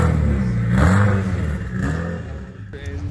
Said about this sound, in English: That's a Subaru. All-wheel drive dragster,